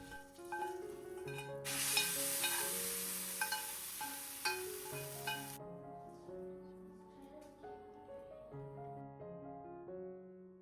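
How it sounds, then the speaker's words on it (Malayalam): Okra is sautéed in hot tempering oil for an Onam sadya, giving a few seconds of bright frying hiss that fades under continuous melodic background music. "വറവിടുന്ന സമയത്ത് അതിലേക്ക് തന്നെ ഞാൻ വെണ്ടയ്ക്ക ഇട്ടിട്ട് ഒന്ന് ഇങ്ങനെ വഴറ്റിയെടുക്കും"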